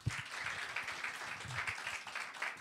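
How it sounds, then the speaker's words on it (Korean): A church congregation at a missionary guest worship service claps in a brief, moderately distant burst of applause, steady and diffuse throughout. "박수."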